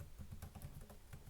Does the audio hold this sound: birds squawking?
no